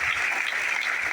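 An audience at a direct-selling business seminar claps continuously, a dense, even burst of applause heard alone and close.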